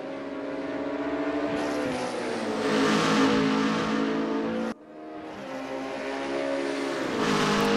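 Race cars roar past on a circuit during a weekend race, a steady loud engine drone that swells and shifts pitch as the cars accelerate, cut briefly before the next car's engine rises again.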